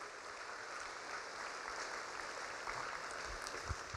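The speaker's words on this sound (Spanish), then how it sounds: "Dele palmas al Señor" A church congregation claps in praise, a faint, steady patter of many hands at a distance that continues evenly throughout.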